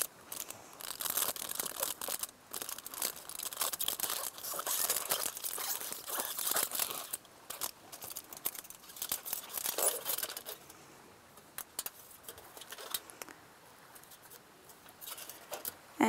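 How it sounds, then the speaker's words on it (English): Foil is unwrapped from a field blank sampler, crinkling and crackling in dense, irregular bursts close up, loud at first and quieter and sparser toward the end. "then you would just unwrap the foil"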